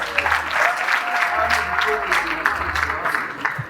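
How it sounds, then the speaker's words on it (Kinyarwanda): An audience claps and cheers continuously at a lively event, a dense wash of applause holding steady for several seconds, fairly loud and close, with a voice rising over the crowd noise. "Ni mu nkomera amashyi mubereke."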